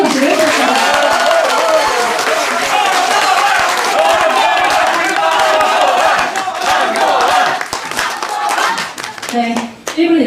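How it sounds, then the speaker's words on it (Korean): An audience at a public forum on election fraud claps steadily and loudly, with scattered shouts mixed in, before the applause thins out and breaks off near the end. "다시 한번 큰 응원의 박수를 부탁드립니다"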